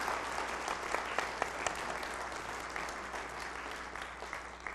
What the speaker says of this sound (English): Let's give Katie a round of applause for doing that great work.